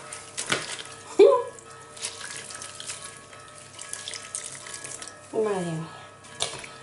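Tap water runs intermittently while white laundry is scrubbed with a stain-removing soap paste, quiet trickles and splashes with brief louder gushes, someone talking over it at times.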